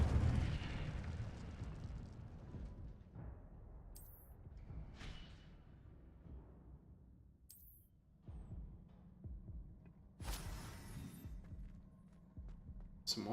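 A fire spell cast in Hogwarts Legacy bursts out in several sudden whooshing blasts over a low, rumbling game background, with the loudest flare near the end.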